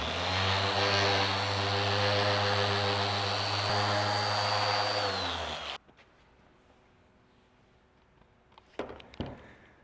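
A power sander with 320 grit sandpaper works a Corian solid surface countertop, droning with a steady motor whine for about six seconds before cutting off, followed by near silence and a few light knocks.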